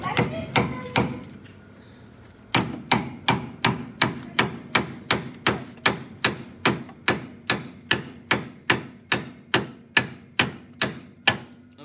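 Heavy hammer blows beat the rusty body of a 1962 Ford Thunderbird again and again in a steady rhythm, loud and close, with rust falling off, after a few uneven hits and a short pause at the start.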